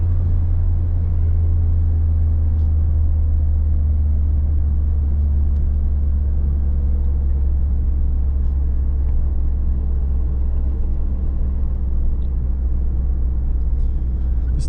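Ford Sierra 2.0i Ghia engine while overtaking, a steady, heavy low-frequency drone with broad road rumble that holds constant throughout, heard from inside the car with no talking.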